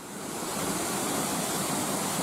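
Falling water at Ayún pours in a steady, dense rush, a loud continuous splash and hiss with no voices over it.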